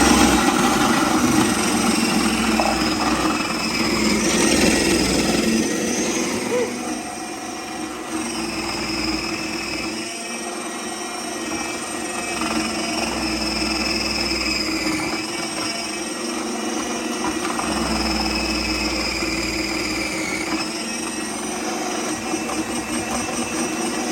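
A Kenmore Short Order II electric chopper runs continuously while shredding carrots, a steady loud motor whir with a slightly varying grind throughout.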